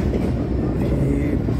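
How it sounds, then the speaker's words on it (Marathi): Elevated train rolling through Kimball station in Chicago, a steady loud rumble of wheels and cars filling the whole span with no distinct clicks. "ही ट्रेन गोल फिरून आली."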